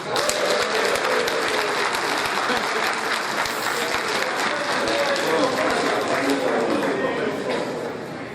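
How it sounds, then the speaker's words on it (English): Audience at a graduation ceremony applauding graduates, a dense continuous wash of clapping from a large crowd, steady throughout and tapering slightly at the end. "Applaudissez-les."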